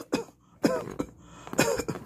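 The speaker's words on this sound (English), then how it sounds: "Cough." Three short, breathy coughs in succession, fairly close and soft, with brief pauses between them.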